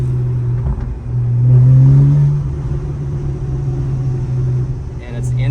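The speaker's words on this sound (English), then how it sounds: "Listen. This car gurgles." A Porsche sports car engine revs and gurgles up close, with a low rumble swelling into a brief louder rev partway through before settling back to a steady burble.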